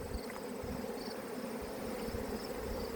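Honeybees swarming out of a 5/5 hive during an inspection, a dense continuous buzzing hum, close and steady, alone.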